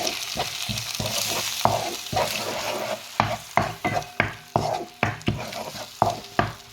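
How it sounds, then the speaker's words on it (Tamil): Two beaten eggs frying in a pan for puttu kothu, a steady sizzle broken by repeated sharp scraping stirs that grow more regular and rhythmic toward the end, close and loud. "இப்போ ரெண்டு முட்டை அடிச்சு விட்டுட்டேன்"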